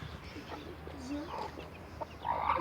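Soft clucking from feather-footed chickens nearby, short irregular calls over a low background hum.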